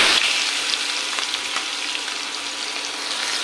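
Chopped onions frying in a pan give a steady, close, loud sizzle that holds without a break and carries no voices.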